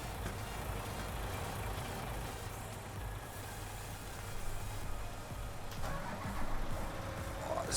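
A truck engine starts and settles into a low, rumbling idle in Farming Simulator 2019. The steady diesel drone is loud and close, with a brief hiss near the end.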